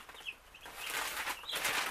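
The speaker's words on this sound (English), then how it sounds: "at the end of week one, we still have our 26 chicks that we started with" Cornish Cross broiler chicks chirp and peep in a few short, high calls over quiet rustling, fairly faint and close, growing a little busier toward the end.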